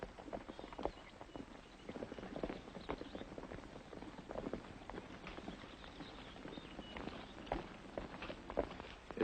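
Horses' hooves clip-clop along a trail in an old Western setting, a steady jumble of overlapping hoofbeats at moderate distance with no talk over them.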